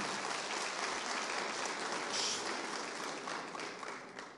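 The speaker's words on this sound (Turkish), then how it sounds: "bol bir alkış alalım efendim." Sustained applause from an audience at a Turkish oil wrestling league press conference, steady and dense for several seconds before tapering slightly toward the end.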